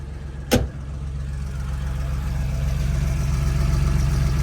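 A car engine with a broken head stud catches with a short sharp burst, then settles into a steady low idle that continues alone.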